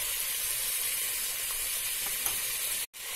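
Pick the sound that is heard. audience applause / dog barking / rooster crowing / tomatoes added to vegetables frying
tomatoes added to vegetables frying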